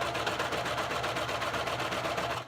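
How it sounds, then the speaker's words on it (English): A sewing machine runs steadily, chaining along a fabric seam with an even, close mechanical whir that stops abruptly at the end. "I am going to start sewing"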